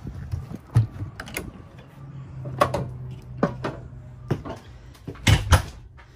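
A drawer in a 2017 Salem Cruise Lite 261BHXL travel trailer sliding open with a short scrape and rattle, followed by several knocks and clunks of handling, close by.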